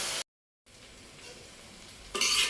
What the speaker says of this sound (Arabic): شوحيه كويس بقى كده في الزيت